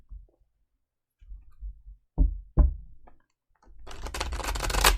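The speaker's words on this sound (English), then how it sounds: "One more shuffle here." Tarot cards being shuffled by hand, a few soft knocks and taps followed by a rapid riffling flutter of cards up close, with no talking.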